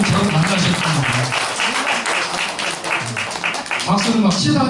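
A lecture audience bursts into loud, sustained applause, dense clapping filling the hall throughout with voices mixed in.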